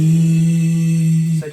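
A sustained sung vocal harmony layer from a song holds a single steady tone, close and loud, then cuts off abruptly near the end.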